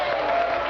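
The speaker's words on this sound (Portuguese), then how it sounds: "essas manifestações de aplauso" Audience applause and crowd noise at a heated religious debate in Brazil, a brief steady wash of clapping that fills the moment without gaps, with a voice faintly audible underneath.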